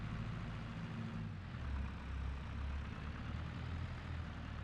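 A tractor engine in a farming video game runs at a steady idle, a deep continuous rumble heard alone with a slight swell midway.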